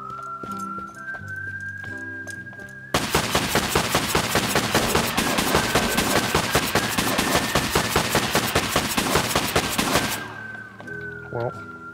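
Rapid automatic gunfire rattles at a shooting range in the video game Teardown, a dense continuous burst of shots lasting several seconds, bracketed by quieter game ambience with a steady tone before and after.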